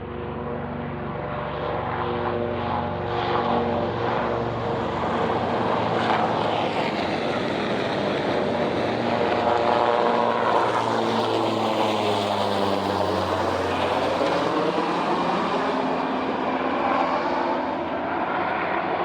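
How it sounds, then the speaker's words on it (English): Two Navy or Coast Guard helicopters flying in near ships on the water, loud rotor and engine roar that swells and shifts in pitch as they pass close overhead. "Two helicopters coming in."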